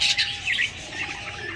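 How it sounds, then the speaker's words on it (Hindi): Budgerigars give quick, bright chirps and short warbling calls up close, several brief bursts in a row with no talking. "अब आप देखेंगे बजरी तोते।"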